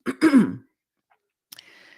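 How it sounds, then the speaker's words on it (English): One person with a lingering raspy voice after COVID clears their throat in two quick rough bursts close to the mic, then a short pause and a faint brief noise. "I have to clear my throat a lot"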